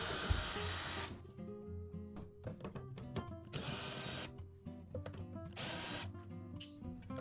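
A power driver backs screws out along the top of an LG washer during a drain pump repair, sounding in several short, close whirring bursts separated by brief pauses, fairly quiet overall.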